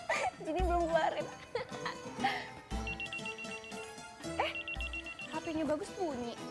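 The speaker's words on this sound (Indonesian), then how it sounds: "HP-nya Bagus bunyi." A mobile phone rings indoors in bursts of repeated electronic tones, heard twice over a busy comedy-show scene with music, thumps and people talking and laughing around it.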